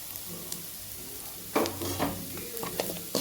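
Garlic and coconut sizzle and fry in a pan while Kongu-style mint chutney is made, with a sharper burst of crackling and stirring partway through over a soft background hiss.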